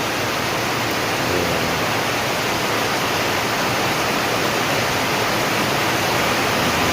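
Heavy rain pouring down in a steady, dense roar that stays loud and even from start to finish, with no voices.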